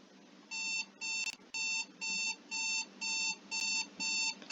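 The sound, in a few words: wake-up alarm from a drowsiness detection app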